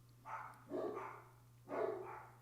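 Dogs bark in three muffled, fairly distant bursts over a steady low electrical hum, with short quiet gaps between them.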